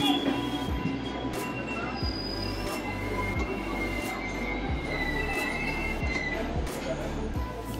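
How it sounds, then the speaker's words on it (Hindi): A train pulling away from Rana Pratap Nagar station rumbles steadily on the rails, with thin high metallic wheel squeals drawn out over the low rolling noise and a few faint clicks throughout. "हमारी ट्रेन का डिपार्चर राणा प्रताप नगर स्टेशन से हो गया है"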